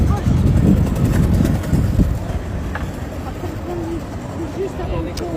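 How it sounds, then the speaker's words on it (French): Gusty outdoor wind buffets the microphone with low rumbling, strongest in the first two seconds and then easing to a steady breeze. "Il y a un peu de vent."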